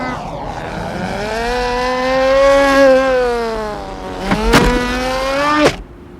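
A car's engine drones steadily with a rising and falling pitch, like a vehicle accelerating and shifting, loud and close with sharp bursts near the end; no talk over it.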